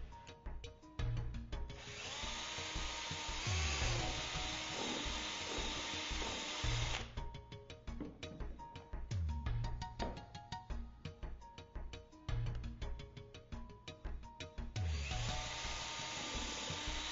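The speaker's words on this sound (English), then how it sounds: "Using a 3/8 inch countersink bit, you will pre-drill your holes." A power drill fitted with a 3/8 inch countersink bit pre-drills holes for a gate installation, running in several sustained bursts of whirring and grinding with brief pauses and clicks between them, loud and close.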